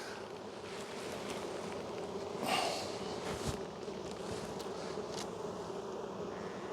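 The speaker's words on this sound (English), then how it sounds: "few bees here" Honeybees drone at an open hive during an April inspection, a continuous low humming swarm close by, with a few louder buzzing passes near the listener and no talking.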